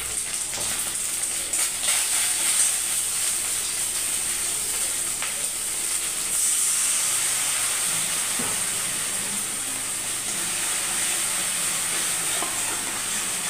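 Ginger frying with ground coriander and cumin, a loud, steady, dense sizzling hiss that runs without a break from start to end, close to the pan.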